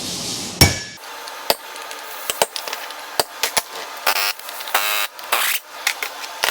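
Sharp metallic hammer strikes drive a sharpened pick against a turbo bolt on a skoolie bus, landing in irregular clusters of loud, close taps with brief quiet gaps and no talking.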